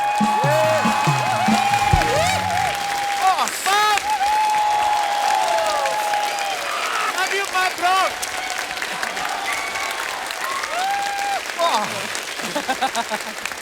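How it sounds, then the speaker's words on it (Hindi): Audience applause rises and holds under loud music and an announcer's voice on a TV comedy show stage, with scattered cheers mixed into the steady clapping. "जोरदार तालियां हो जाए"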